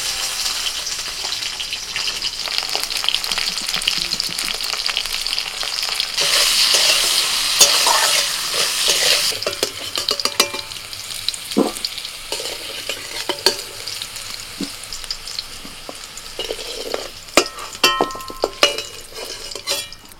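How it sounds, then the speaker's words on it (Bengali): Potatoes frying in hot oil in a home village-style kitchen, a steady close sizzle with bursts of crackling, occasional stirring scrapes and clinks of a utensil against the pan. "ওই তেলের মধ্যে আমি আলুটা ভেজে নিচ্ছি"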